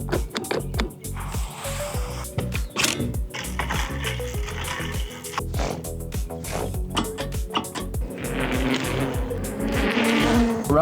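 A Gotrax Ranger 16 mini moped-style e-bike is ridden with a steady electric motor whine, rising and falling in pitch under rushing wind and road noise, close and continuous, with no voices.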